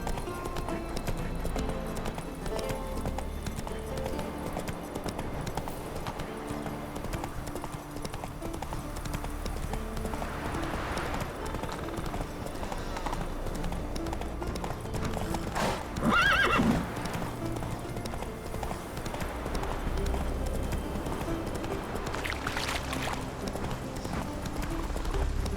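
Galloping horse in The Witcher 3 video game, steady rapid hoofbeat clip-clop running throughout with a brief whinny near the middle, set under a continuous game soundtrack.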